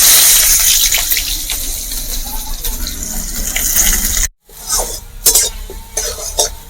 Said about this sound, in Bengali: পেঁয়াজ দেওয়ার পর কিছুটা টাইম ধরে দেখুন পেঁয়াজগুলোকে আমি এইভাবে ভেজে নিলাম